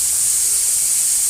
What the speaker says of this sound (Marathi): हे बघा कुकर ठेवला आहे, डाळीचं कुकर लावलंय